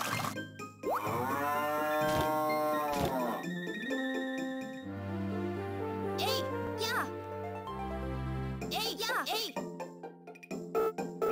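A cow moos in long, drawn-out calls in Harvest Moon over cheerful background music, with a brief pause between lows.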